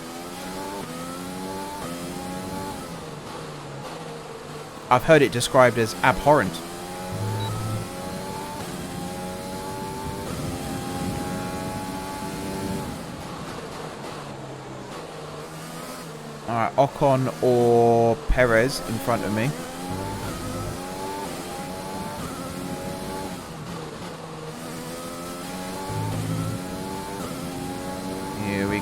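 Simulated F1 2020 race car engines on flying qualifying laps at the Dutch Grand Prix, a steady high whine with gear-shift sweeps and bursts of revving near 5 and 17 seconds, heard under continuous talk.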